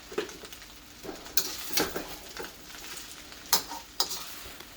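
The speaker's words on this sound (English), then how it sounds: "Just turn it and you mix it into the wok." Fried rice with pre-cooked eggs stir-fried in a Joyce Chen wok, a steady low sizzle broken by several sharp scraping and clanking strokes of the spatula against the metal, close and clear with no talk.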